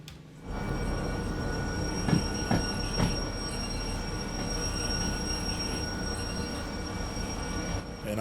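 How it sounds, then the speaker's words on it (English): Train in the game Derail Valley braking under the engineer's control, with a continuous loud rumble of rolling wagons and thin wheel squeal, plus a few sharp clanks early on. "And train and independent brakes on."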